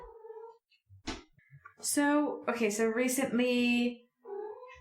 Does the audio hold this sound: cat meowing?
yes